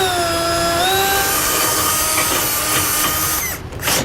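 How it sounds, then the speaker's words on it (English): A power drill turns a 1/4 inch bit through the steel frame of a 2018 Ram 3500, boring a pilot hole for a Curt trailer hitch receiver; a loud, steady high whine runs close by and pitches up as the motor speeds, with no talk. "Now I'm going to go down to my 1/4 inch drill bit and drill that hole first"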